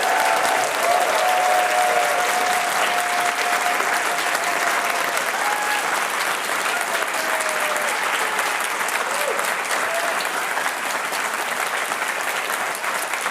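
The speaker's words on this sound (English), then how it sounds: "so we can all give you a massive round of applause because you are all winners already" Sustained applause from a conference audience for the pitchers at a tech pitch event, dense and steady clapping filling the room throughout without talk.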